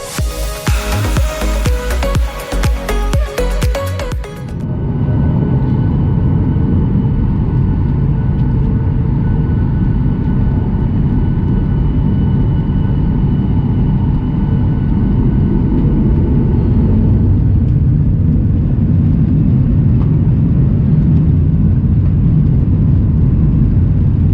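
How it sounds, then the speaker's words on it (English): A loud broadband roar gives way to a deep, steady jet engine rumble that builds and stays strong, heard from inside the cabin of a Boeing 737 taking off. "now we can take a look at the takeoff and listen to the sound of the plane"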